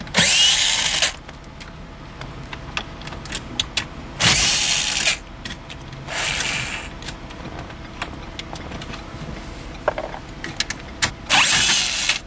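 Power drill driving out the four radio screws in a Lincoln MKZ dash, heard as four separate loud whirring bursts spaced a few seconds apart, with quiet clicks and handling noise between them.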